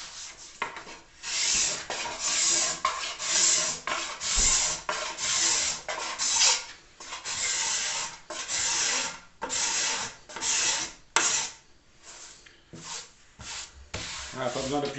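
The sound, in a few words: scraper shaving wood surface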